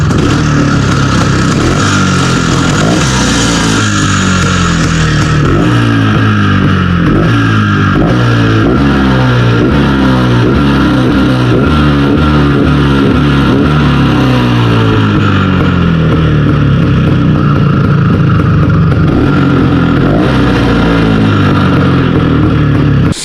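A freshly built vehicle's engine, heard on its first start, revs wildly at close range. The loud, rough roar rises and falls with clattering mechanical noise and continues without a break.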